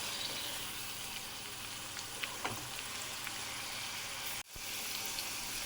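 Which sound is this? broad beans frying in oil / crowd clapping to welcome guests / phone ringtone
broad beans frying in oil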